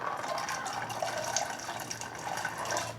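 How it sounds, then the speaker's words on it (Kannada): Water pours steadily from a small jug into a pressure cooker while cooking field beans, a continuous close splashing gush with no talk. "ಕುಕ್ಕರ್ಗೆ ಒಂದು ಚೊಂಬು ನೀರು ಹಾಕೋ, ಸ್ವಲ್ಪ ನೀರು ಹಾಕೋತೀನಿ."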